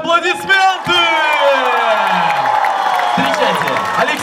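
A festival audience cheers, whoops and applauds loudly as a flag and anthem are introduced, with an announcer's amplified voice and music rising over the crowd.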